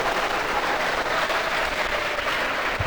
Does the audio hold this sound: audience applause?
yes